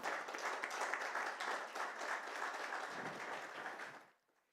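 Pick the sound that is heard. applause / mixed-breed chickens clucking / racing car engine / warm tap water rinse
applause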